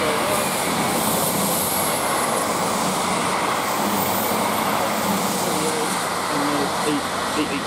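A steady, loud rushing roar of a Class 159 diesel passenger train passing Brookwood station fills the whole stretch, with engine drone and wheel noise and no breaks.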